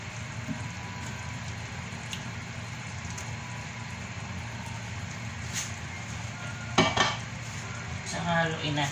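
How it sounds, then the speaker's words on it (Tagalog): A spoon stirs beef sinigang in a pot over a low background simmer and hum, with a burst of metal scraping and clinking against the pot near the end. "Saka haluin natin."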